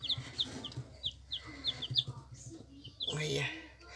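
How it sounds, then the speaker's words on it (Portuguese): Newly hatched chicks of mixed colours cheep in short, high, repeated peeps close by, with some soft clucking and light rustling underneath. "Aí tá os pintinhos já que já nasceu, ó."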